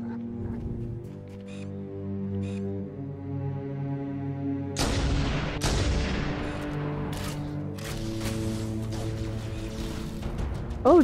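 Explosions in Halo: Combat Evolved on Legendary difficulty: sharp broadband blasts burst in around the middle and trail into ragged crackling debris over a low droning game soundtrack, with scattered follow-up bangs toward the end.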